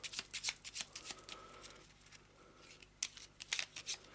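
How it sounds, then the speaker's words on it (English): A deck of cards for the Arkham Horror board game is shuffled by hand, giving a run of quick papery riffles and snaps, with a pause midway and another burst of shuffling after it, fairly close and quiet. "We'll make sure we give these a good shuffle."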